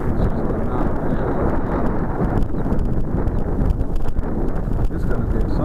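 Strong crosswind buffets the microphone at an RC plane flying field during a Hobbico TwinStar electric model's flight, a loud, unbroken low roar with gusty rumble throughout.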